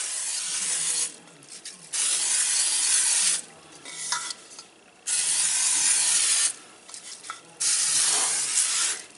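Butter-flavored cooking spray hissing into a cake pan in several loud bursts of about a second or more each, separated by short quiet gaps with faint handling noises.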